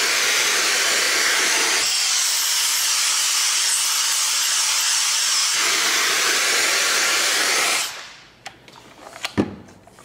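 A Piab vacuum gripper pulls hard on a liquid nacho cheese bag, producing a loud, steady rushing hiss of air that shifts in pitch midway, then cuts off, followed by quieter clicks and handling noises.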